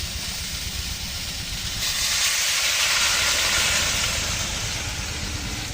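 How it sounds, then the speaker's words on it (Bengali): Hot water goes into a pan of frying ridge gourd and potato curry, raising a loud, steady steamy hiss that swells partway through and stays strong. "এখন আমি যেখানটা আগে থেকে গরম জল দিয়ে দেবো।"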